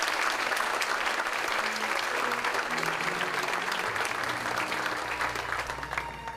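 A crowd applauds steadily and loudly for several seconds, the clapping thinning and fading toward the end.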